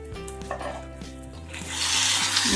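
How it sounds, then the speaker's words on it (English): Chicken mince and spinach stirred in a pan: a utensil scrapes and knocks against the metal under a low background hum, then a louder hissing sizzle builds toward the end. "And give it a nice mix"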